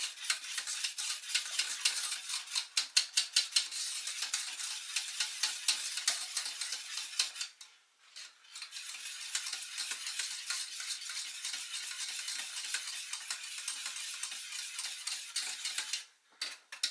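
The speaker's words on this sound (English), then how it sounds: "Once you get it to the stage of a thick sauce like that, you can go in with your whisk." A whisk beating thick cheese sauce for cauliflower cheese in a pan, rapid rhythmic scraping and ticking strokes, close and steady, with two brief pauses.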